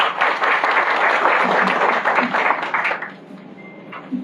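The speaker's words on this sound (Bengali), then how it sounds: "মাল্টিমিডিয়া রিপোর্টার্স অ্যাসোসিয়েশনকে আমরা সবাই একসাথে আমরা হাততালি দেব" Audience applause at a Multimedia Reporters Association event, heard as a dense, loud burst of many hands clapping together that holds steady, then drops off sharply into quieter room sound with a few stray claps.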